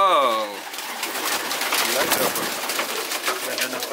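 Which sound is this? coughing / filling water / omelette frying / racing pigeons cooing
racing pigeons cooing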